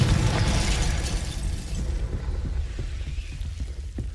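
A Confringo fire spell bursts in Hogwarts Legacy, a loud, broad explosive blast at the start that fades into a rumbling, crackling tail with scattered small pops.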